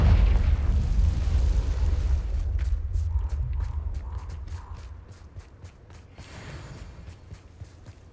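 Confringo blasting spell explodes in Hogwarts Legacy with a loud deep boom that rumbles and fades, followed by a string of short sharp clicks and impacts.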